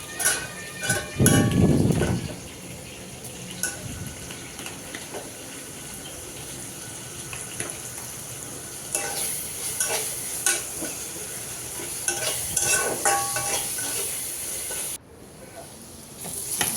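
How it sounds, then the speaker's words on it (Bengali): Pointed gourd frying in a pan while it is stirred, giving a steady sizzling hiss with scraping stir strokes, louder bursts near the start and again toward the end. "পটল ভাজিটাও হয়ে গেছে, নাড়াচাড়া করে নিচ্ছি"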